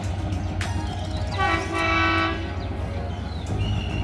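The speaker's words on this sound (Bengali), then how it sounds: "খুলনা থেকে ছেড়ে আসা সিলাহাটিগামী 727 আপ রূপসা এক্সপ্রেস এই মুহূর্তে আপনারা দেখতে পাচ্ছেন" The 727 Up Rupsha Express from Khulna to Chilahati rushes past with a steady rolling roar, and a sustained horn blast sounds in the middle over the continuous rumble.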